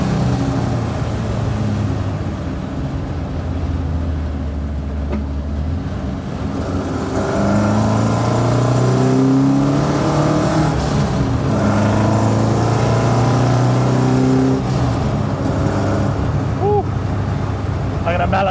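A 1972 BMW 2002 race car engine drones steadily while driving, with rising and falling revs through gear changes, close and continuous throughout.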